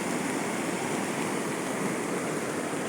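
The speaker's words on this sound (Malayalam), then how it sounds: "പുഴ കര കവിഞ്ഞ് ഒഴുകുന്നതാണിത്" Floodwater from a river overflowing its banks after the Wayanad landslide roars steadily in a dense, unbroken rush, loud and close with no pauses or voices.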